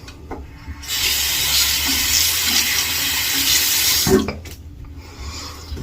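Tap water runs steadily into a sink while the face is rinsed during a wet shave, a continuous broadband gush that lasts several seconds and then cuts off with a brief clunk.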